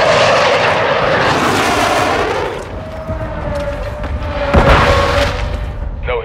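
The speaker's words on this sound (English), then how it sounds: "Friendly mortar strike on the way." Mortar strike in Call of Duty: Modern Warfare II, heard as a loud wash of battlefield noise with deep booms and a sharp blast near the end, a sustained tone running beneath.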